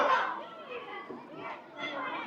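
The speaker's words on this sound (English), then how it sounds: "there's going to be a lot of kids in there screaming" Children shout and play at an echo wall in a Beijing park, their overlapping voices continuous and lively at moderate distance.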